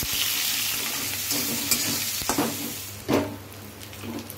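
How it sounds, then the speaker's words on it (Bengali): Onions frying in oil and ghee for egg biryani give a steady close sizzle, with a few louder stirring scrapes and bursts along the way. "তেল দিয়ে দিচ্ছি, একটু ঘি দিচ্ছি, পেঁয়াজ বেরেস্তা করে নিচ্ছি আগে।"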